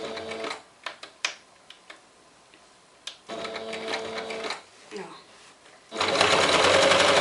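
Domestic sewing machine stitching fabric for a heart-pattern makeup pouch, with short whirring runs and a reverse backstitch burst, broken by pauses, clicks and handling; someone talks between the runs.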